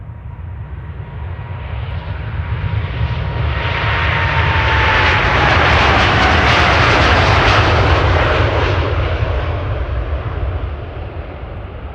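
A KLM Boeing 787-10 Dreamliner jet passing at Amsterdam Schiphol, its roar building to a loud broadband peak mid-pass and then easing off, with a faint whine threading through the steady rumble.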